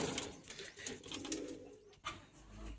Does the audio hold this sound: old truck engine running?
no